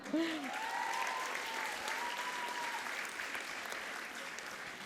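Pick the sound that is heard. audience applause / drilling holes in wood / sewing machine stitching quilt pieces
audience applause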